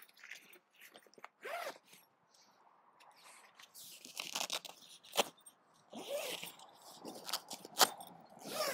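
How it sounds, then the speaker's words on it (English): The zip on a Quest Screen House 4 Pro shelter is pulled up in several quiet, close bursts of ratcheting rasp, separated by short pauses and small fabric rustles. "This then zips directly up."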